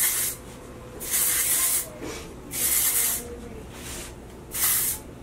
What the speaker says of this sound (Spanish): now I'm gonna do dry shampoo.